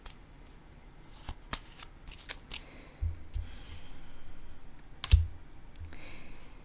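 Tarot cards are handled at close range: soft shuffling and sliding, crisp flicks and a few light slaps as cards are laid down on a table, fairly quiet.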